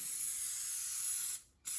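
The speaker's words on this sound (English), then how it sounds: "We got our spray. I want to get it up in here" Spray hisses from a can onto the interior of an MG TD under restoration, a steady, close, bright hiss that cuts off briefly and then starts again.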